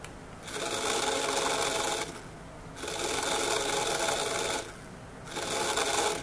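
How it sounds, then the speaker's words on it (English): A small DC motor switched by an IR sensor runs in three faint, steady whirring stretches with short quieter gaps between them, a sound close to a sewing machine's. "So you can see the motor has started to rotate."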